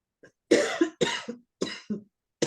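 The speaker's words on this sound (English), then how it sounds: "I just want to cough" An irritated, dry cough repeats in a close, loud series of about four harsh bursts, each followed by a short catch of breath, with no talking over it.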